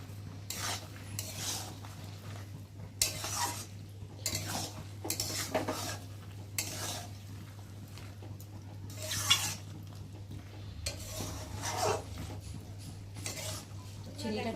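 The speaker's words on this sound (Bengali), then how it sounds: "চিনিটা দিয়েছি দেওয়ার পরে একটু ঘাটতে ঘাটতে ভালো করে চিনিটা গলে গেছে" A spoon stirs Malabar spinach curry with sugar in a metal pan, giving repeated scraping and clinking strokes in irregular bursts over a steady low hum.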